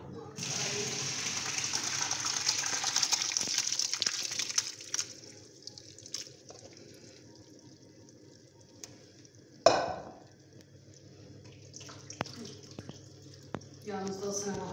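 Manti dumplings are rinsed under running water in a home kitchen, a steady faint splashing trickle for the first few seconds, then quieter drips and a sharp clatter midway, with soft speech in the background.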